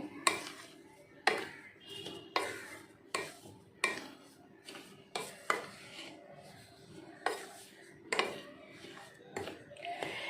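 Flour being mixed with cardamom, cashews and jaggery in a bowl, a series of regular scraping knocks of a spoon against the container, about one every second, close and moderately quiet.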